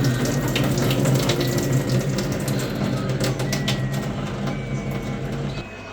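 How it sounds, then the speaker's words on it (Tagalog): Water from a cooking pot being drained into a kitchen sink, a steady close splashing gush that rushes continuously and tapers off near the end. "Oh, i-drain na natin to guys. Ready to drain."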